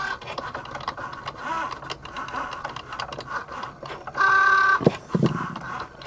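A tiny but heavy cutting machine cuts material for a resin book cover, a busy ticking and scratching mechanical patter with a brief high-pitched whine near the end, then a couple of sharp clunks, close up.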